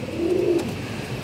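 A single short, low pigeon coo sounds close by in a loft of Pulsar breed pigeons, over a steady ambient hum.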